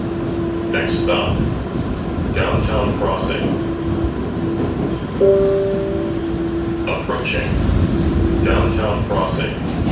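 An MBTA Orange Line subway train in Boston rumbles steadily along, with an intermittent steady tone and screeching mechanical noise over the continuous roar of the ride.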